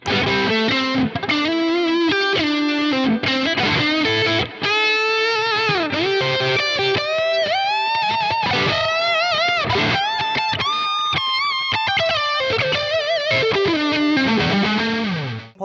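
A Cort G250SE electric guitar on its neck pickup plays a distorted solo line with effects, sustained bending notes filling the whole stretch, loud and close with no talking.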